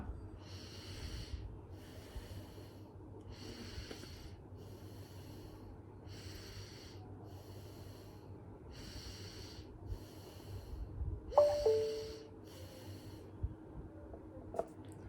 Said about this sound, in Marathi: उजवी नागपुडी बंद करा डावीनी श्वास घ्या डावीनी श्वास सोडा